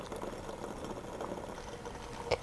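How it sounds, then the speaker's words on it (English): Tap water boils vigorously in a lab vessel, giving a faint, steady bubbling hiss that runs throughout, with one brief click near the end. "you can see that the water is boiling vigorously"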